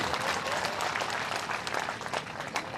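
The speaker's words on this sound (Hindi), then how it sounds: "एक बार बहुत जोर से तालियां बजाएं राजा हरिश्चंद्र के लिए।" Dense, sustained applause from a large audience at a devotional Bhagavad Gita gathering, honoring a Raja Harishchandra performance, steady and loud throughout with no pause.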